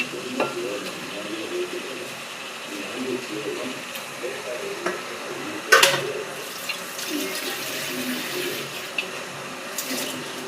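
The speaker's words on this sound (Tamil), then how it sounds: "சிக்கன் போட்டுட்டு அப்படியே ஒரு கிண்டி விட்டுருவாங்க." Chicken pieces go into a pot and are stirred while cooking, giving a soft sizzle with scraping and shuffling. The stirring is faint and continuous, with one brief louder clatter partway through.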